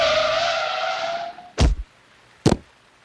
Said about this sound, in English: Quickly, she put her foot on the brake.